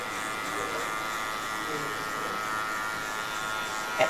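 An electric hair clipper running close up during a zero-cut haircut, a steady continuous buzz with a faint background voice.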